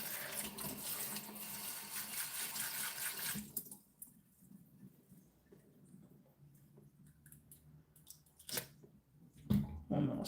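A spray bottle mists water onto indoor plants: a steady broadband hiss for about three seconds, followed by quieter handling clicks and faint taps close by.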